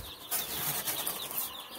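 Freedom Ranger chicks in a brooder give a busy burst of wing flapping with soft chirps and clucks, a close, steady flutter lasting the whole moment.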